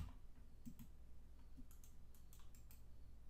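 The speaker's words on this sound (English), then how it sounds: "That's left clicking." A computer mouse clicks in faint, quick taps, a handful of soft clicks spaced irregularly over a low background hum, with no voice.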